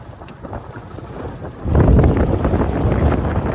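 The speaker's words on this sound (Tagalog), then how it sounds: "ang lakas ng hangin" Heavy wind buffets the microphone in a loud, rough roar that grows stronger midway, with water sloshing around a boat on rough waves off Hagonoy, Bulacan.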